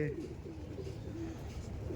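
Kala sabuj pigeons coo softly and repeatedly in low, rolling murmurs at a home breeder's loft, faint and close, with a voice talking over them.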